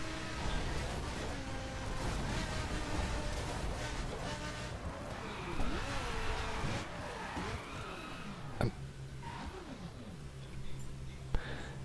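Lamborghini Huracan LP610-4 driving in The Crew video game, a steady engine drone with rising and falling revs, tyre noise and a few sharp clicks, fairly quiet overall.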